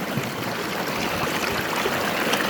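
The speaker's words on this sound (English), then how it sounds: "I'll clean it in the kind of faster water here" Fast-flowing stream water where a gold prospector cleans a pan, a steady broad rushing and burbling close by, constant and alone without talk.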